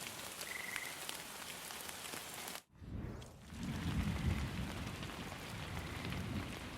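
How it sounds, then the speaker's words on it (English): Rain falls in the video game Pig Detective, a continuous hiss with frog-like croaks, cut by a sudden brief dropout before swelling back with a heavier low rumble. "it'll keep all the rain off you"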